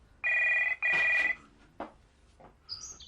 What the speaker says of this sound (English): Phone! Well, answer it.